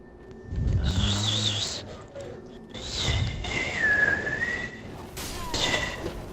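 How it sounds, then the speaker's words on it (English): Someone whistles a wavering melodic tune in short phrases, fairly close and clear, with brief breaths and background thumps between phrases during a casual podcast gathering. "Who's good at whistling?"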